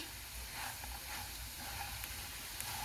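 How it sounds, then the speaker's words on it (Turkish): Small pieces of dough fry in hot oil for a Turkish kıkırdaklı hamur winter soup with lentils and chickpeas, giving a steady, faint, continuous sizzle with no voices. "Kıkırdak hamurlarımız kızarmaya başladı."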